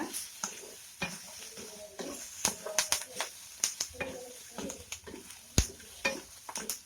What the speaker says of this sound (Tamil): ஒரு கால் மூடி தேங்காயை கட் பண்ணி சேர்த்துருக்கேன் சேர்த்துட்டு இதை நல்லா மிக்ஸ் பண்ணி விடுங்க